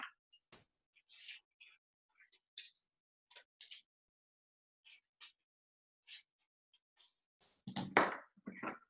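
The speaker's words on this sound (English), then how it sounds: "I'm gonna just cut with my scissors." Scissors snip through paper at an artist's studio table: a scattered series of short, crisp close-up cuts with quiet gaps, ending in a louder cluster of rustling and handling.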